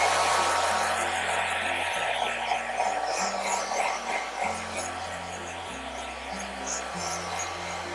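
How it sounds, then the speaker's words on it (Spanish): A handheld hair dryer blows steadily over a freshly painted base, a loud continuous whooshing whir with a humming motor tone that shifts slightly as it moves. "Aquí tengo mi secador, vamos a darle una secadita rápida."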